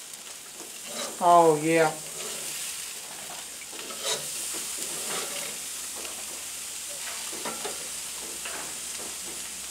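Steaks sizzling over a charcoal fire on a grill, a continuous hissing sizzle with scraping as the meat is flipped, under brief exclamations from a man.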